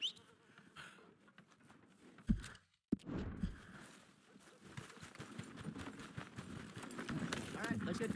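Horse hooves clip-clopping in Red Dead Redemption 2 as a newly bought horse is ridden, a busy rhythmic patter of steps with voices talking over it and a brief pause partway through.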